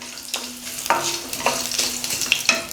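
Chopped ginger fries in hot oil for a potato masala, making a crackling sizzle close by. Repeated stirring strokes cut through at roughly half-second intervals, each a brief scrape against the pan over a steady bubbling hiss, and no one speaks.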